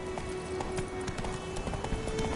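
Roach the horse galloping in The Witcher 3, hooves beating out a quick, rhythmic clip-clop at moderate volume over faint background game ambience.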